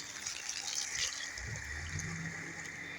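Water pours out of a pipe from a small borehole well, a steady splashing flow that deepens and strengthens partway through.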